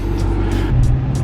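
A 2020 BMW 750i idles with a steady, loud low rumble, a constant engine hum close by with light hiss above it.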